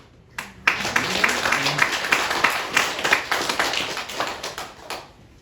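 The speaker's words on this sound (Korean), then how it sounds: "여러분들 앞에 오심을 환영하고 박수로 영접하시기를 바랍니다" Church congregation clapping in welcome at a Sunday service, a dense run of many hands that starts abruptly, holds steady for several seconds at moderate loudness and stays mostly free of talk.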